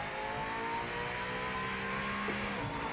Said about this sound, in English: Not at all what a Mercedes sounds like today.